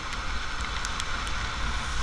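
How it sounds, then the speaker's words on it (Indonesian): Heavy rain pours during a motorcycle ride, a dense, loud hiss and patter with rumbling wind buffeting the microphone, continuous throughout with no voices. "hujannya makin gede nih kayaknya"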